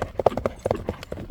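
A four-year-old Karabair horse, a strong ulak mount, clip-clops on hard ground, its hooves striking in quick, close, rhythmic pairs with no pause.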